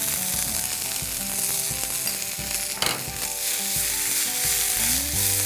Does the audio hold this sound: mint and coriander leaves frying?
yes